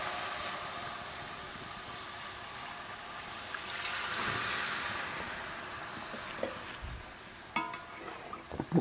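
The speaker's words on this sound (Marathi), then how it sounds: "आता आपल्याला यामध्ये जेवढा आपला रस्सा हवा आहे त्याप्रमाणे आपल्याला पाणी ओतून घ्यायचं आहे" Water poured into a Malvani-style fresh cashew masala curry in a hot pan, a broad hissing, steaming rush that swells in the middle, then gives way to a few stirring clinks and scrapes near the end.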